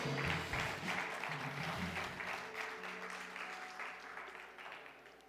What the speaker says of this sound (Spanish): Dale un fuerte aplauso a Jesús en este día.